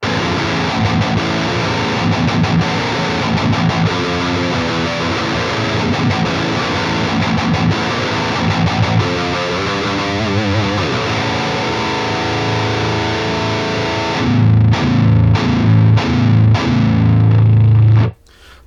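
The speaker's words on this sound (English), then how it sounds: "this is what it sounds like with the tube screamer" Heavily distorted electric guitar played through a Bogren Ampknob amp plugin with a TSC tube screamer plugin, loud and saturated, with chugging riffs and sharp stops near the end, no talking.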